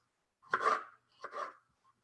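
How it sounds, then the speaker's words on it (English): Knife slicing through tomatoes for shakshuka, two soft, close cuts a moment apart, each a brief scraping slice, with quiet pauses around them. "I'm going to cut up 4 tomatoes"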